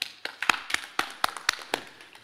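Sparse clapping from a few people at a public information meeting on housing refugees, about a dozen distinct claps in a loose, uneven rhythm.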